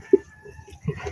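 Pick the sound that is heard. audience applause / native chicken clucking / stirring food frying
native chicken clucking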